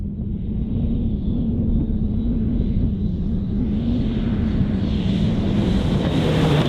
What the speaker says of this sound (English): This is a Milner R5 with a Ford V8 Coyote engine.